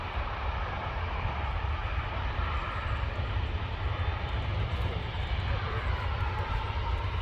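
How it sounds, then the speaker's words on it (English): EasyJet passenger jet at Manchester Airport on a hot day, a steady broad roar of engine and rushing air holding level throughout, heavy low rumble underneath, no talk over it. "EasyJet there, just landed"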